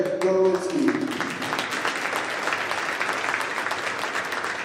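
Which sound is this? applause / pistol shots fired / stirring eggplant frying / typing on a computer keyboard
applause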